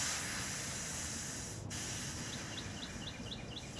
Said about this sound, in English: it's letting air out of the inlet valve